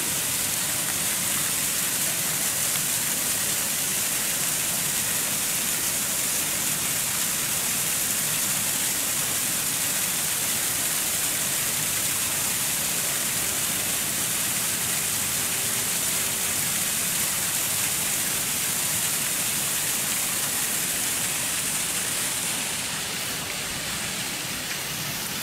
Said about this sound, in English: I guess you'd call that a waterfall, even though it's really just probably a ditch overflowing the bank there.